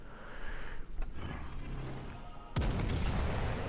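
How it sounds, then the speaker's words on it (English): A battleship's 8-inch secondary guns fire in a naval combat game: rumbling background, a soft thud near the start, then a loud sharp boom that keeps resounding until the end. "my secondaries, especially the 8-inch guns, they are lighting him up"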